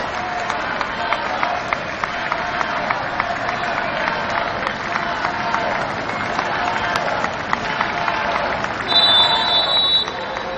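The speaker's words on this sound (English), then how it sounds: "The Nigerian fans very graciously clapping Salgado off the field." Nigerian football fans clap a Banyana player off the field during a WAFCON 2025 semi-final against South Africa, a steady broad crowd din of applause filling the stadium throughout, with a brief buzzing tone near the end.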